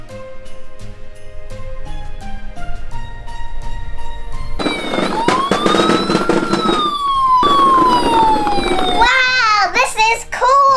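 A toy ambulance sounds a synthetic electronic siren, its wailing tone sweeping up and down with a warbling burst at the end, after a quiet stretch of toy chatter and someone talking.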